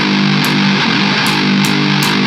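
High-gain electric guitar through an amp in a heavy rock production plays dense, saturated sustained chords, loud and continuous with a few brief bright accents.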